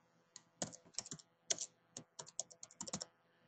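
Keys on a computer keyboard are tapped in a quick, irregular burst of close, crisp clicks while a name is entered, with brief pauses between clusters of strokes and no talking.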